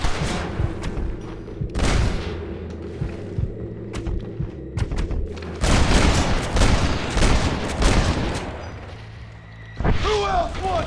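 Repeated gunfire in a Western shootout in the video game Red Dead Redemption, with loud shots and bursts spread across the clip, mixed with game sounds and voices talking over it.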